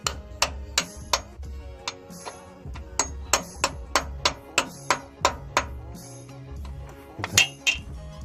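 A hammer strikes metal in a steady series of sharp, ringing taps while installing a clutch on an LS engine, close by, with brief pauses between bursts.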